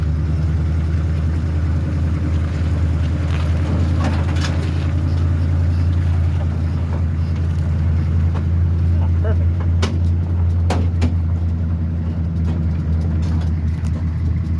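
A wrecker tow truck idles with a low, steady engine rumble as it pushes a vehicle into a driveway, with scattered clanks and creaks over the drone.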